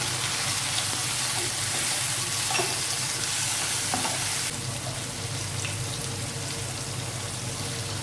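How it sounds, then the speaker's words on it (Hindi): Tomatoes dropped into hot oil with whole garam masala of black cardamom, white cumin and black peppercorns, frying for a restaurant-style moong dal tadka: a steady, fairly loud sizzle and crackle that drops a little partway through, with no voices. "अब ये टमाटोज हैं, ये इसमें ऐड होंगे"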